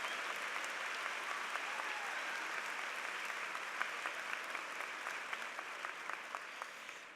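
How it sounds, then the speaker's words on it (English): A large audience at a university commencement ceremony applauds faculty and staff, a dense, even wash of clapping that holds steady for several seconds and fades slightly at the end, no voices standing out. "I want all of us to applaud all that they do to support our students"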